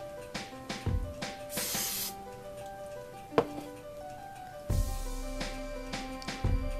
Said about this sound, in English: So just get close to your head and spray.